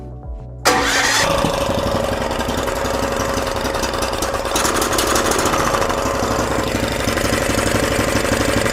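A 420cc engine on a Yerf-dog go-kart fitted with a Stage 1 kit cranks and fires abruptly after a brief quiet moment, then settles into a steady, loud, close idle that runs unbroken to the end.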